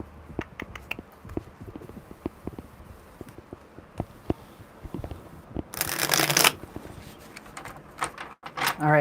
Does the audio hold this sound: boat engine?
no